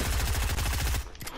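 Rapid automatic gunfire in Fortnite, a dense stream of loud, closely spaced shots rattling steadily for about a second before cutting off, with a brief quieter shot trailing after.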